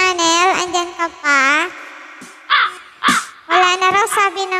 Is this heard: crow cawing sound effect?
yes